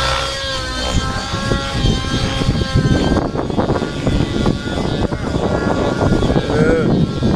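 Buzzing whine of a Senergy N7 model helicopter's motor and rotor flying in rain, rising and shifting in pitch, loud and close, with voices in the background.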